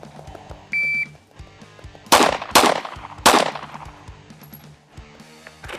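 Three pistol shots fired at night with iron sights crack out loud and close in quick succession, each with a brief ringing decay, preceded by a short timer beep over faint background hum.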